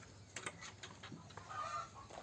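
Chickens cluck softly at close range, a few short calls over faint ambient noise, with no one speaking.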